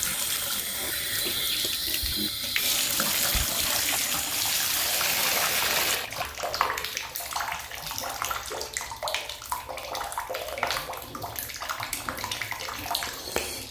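Water pours from a tap into a slowly draining bathtub, a loud steady gush that shifts to a lighter, uneven splashing and trickling partway through.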